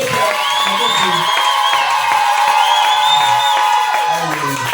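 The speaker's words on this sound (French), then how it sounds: "Si vous croyez, acclamez pour la joie du salut." A church congregation cheers and acclaims, a loud continuous swell of voices with whoops and shouts over reverberant organ or keyboard tones, filling the room throughout.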